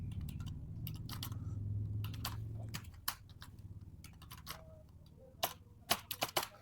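Typing an email address into an online form, rapid clusters of keyboard clicks, faint and close, with a low hum in the first half and pauses between bursts, no talking.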